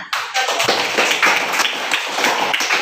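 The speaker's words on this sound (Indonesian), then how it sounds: "Oke, tepuk tangan." Students in a classroom clap their hands together, a dense burst of loud, close applause sustained throughout with no talking.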